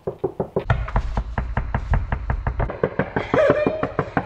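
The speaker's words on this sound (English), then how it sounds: "Crew, should I knock? And a knock. Let's knock." Repeated knocks on a wall or ceiling during a haunted hide-and-seek game, a steady series of loud, close raps about four per second, with a faint tonal squeak near the end.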